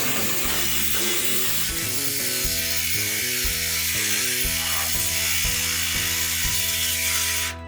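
Metal car body panel being cut down by hand during roll cage prep, a steady rhythmic grinding and rasping that runs loud and unbroken for several seconds, close up.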